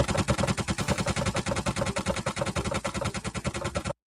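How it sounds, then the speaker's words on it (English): Rapid automatic gunfire sound effect, a loud unbroken burst of evenly spaced shots lasting about four seconds before cutting off abruptly. "Yeah, let's have some nice gunshots."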